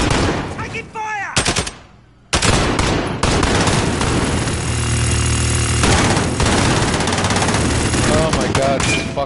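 Heavy automatic gunfire in a video game shootout, loud and nearly continuous with rapid bursts, a brief lull around two seconds, and shouted voices mixed in over the shots.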